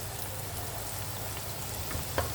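Okra pieces frying in hot ghee for crispy bhindi give a steady, close, dense sizzle and crackle, with one brief louder pop near the end and no talking.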